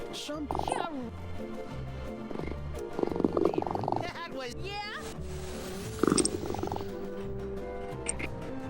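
Uno, a pet cat, purrs in a low steady rumble close by, with game sounds and a person talking over it.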